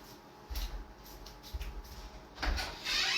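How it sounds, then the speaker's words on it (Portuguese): An indoor door opened to let a cat in or out, with a low thud near 0.5 s, another knock around 1.6 s, then a louder rattling clatter and hiss from about 2.4 s to the end, no talking. "Deixa eu só abrir a porta, porque senão o gato vai destruir minha porta."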